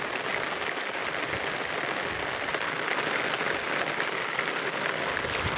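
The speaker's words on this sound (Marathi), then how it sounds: "कारण ब्रेकच नाही पावसाला" Steady, heavy rain pouring down, a dense continuous hiss that stays level throughout with no voices.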